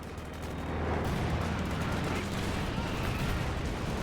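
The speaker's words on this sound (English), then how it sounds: "Strafing run comes in" Strafing-run gunfire in a World War II strategy game, a dense, sustained roar of rapid shots and impacts lasting several seconds, loud and continuous.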